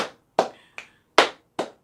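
Five sharp hand sounds make a rhythm pattern, played in an elementary music class. Pats and claps come at an even pace, each crisp and close with a quick decay, and there is silence between them.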